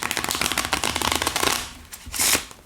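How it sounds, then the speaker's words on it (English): A deck of playing cards being riffle-shuffled up close, a rapid run of crisp flicking clicks for about a second and a half, then a short pause and a final brisk burst as the cards bridge back together. "Let me show you how well these shuffle."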